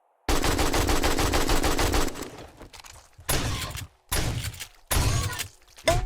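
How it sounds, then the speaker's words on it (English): Rapid automatic AK rifle fire in the 7 Days to Die survival game, a long sustained burst followed by three shorter loud bursts separated by brief gaps, with no talk. "I gotta reload the AK really fast"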